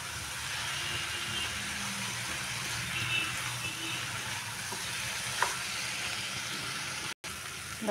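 Spices are stirred into cauliflower and peas frying in a pan, a steady close sizzle with soft scraping of the spoon running throughout and one brief cut-out near the end.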